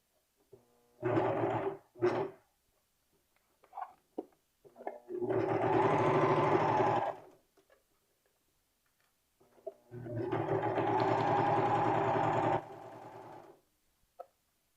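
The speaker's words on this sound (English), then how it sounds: "now I can start sewing my seams either on the sewing machine or on your" A sewing machine stitches T-shirt seams in bursts: two short stitches, then two longer steady whirring runs, separated by quiet pauses.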